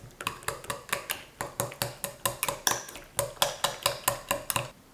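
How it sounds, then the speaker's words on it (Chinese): Two eggs beaten with chopsticks in a bowl of sautéed vegetables: a quick, steady run of sharp clicks against the bowl, close and clear, with no talking. "用筷子充分的搅拌均匀"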